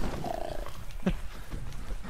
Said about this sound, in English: Just got mauled by a fucking cougar